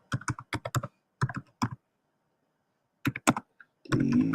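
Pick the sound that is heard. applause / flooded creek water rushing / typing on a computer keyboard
typing on a computer keyboard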